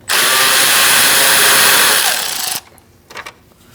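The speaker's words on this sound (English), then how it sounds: "Using a T15, we're going to remove our fan bolts." Cordless power driver with a T15 bit spins loose the cooling fan bolts on a 2016-2019 Chevrolet Cruze 1.4L, one loud continuous whir of about two and a half seconds, then faint clinks.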